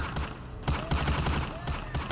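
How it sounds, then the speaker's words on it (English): Gunfire in a narrated horror story, with repeated sharp shots and bursts sounding in quick succession over a dense, reverberant background, loud and close. "followed shortly after by the distinct sound of gunshots"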